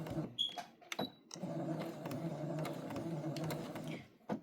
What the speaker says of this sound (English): And then I'm just gonna take it in the sewing machine